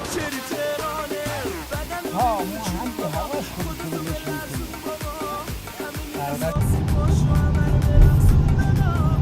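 A semi-truck pulls away on a road in Iran, its engine rumble rising into a loud, steady roar after a stretch of voices and other sounds.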